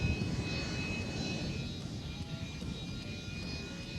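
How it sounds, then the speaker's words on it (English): A jet aircraft hovers while lowering its landing gear, making a loud, steady, broadband roar and whine that holds throughout with no voices. "Here's one lowering its landing gear while hovering."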